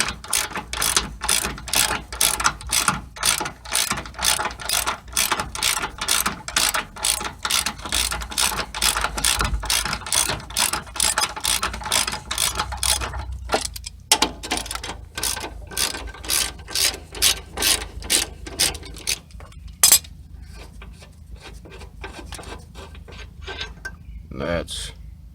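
A hand ratchet clicks rapidly and rhythmically while loosening shock bolts on a 2008 Infiniti QX56, close and steady, then slows into sparser clicks and clanks.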